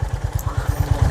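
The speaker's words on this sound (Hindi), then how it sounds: "So let's start the bike quickly." A Honda CB350 RS motorcycle engine runs right after starting, producing a close, loud, steady low thumping pulse with even rapid beats, heard alone.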